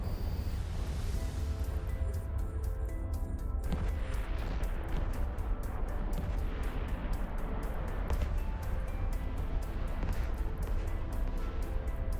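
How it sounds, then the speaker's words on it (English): A ship blows up in the space game EVE Online, a dense, loud rumbling blast that sustains with crackling bursts throughout. "Wow, that's quite the explosion."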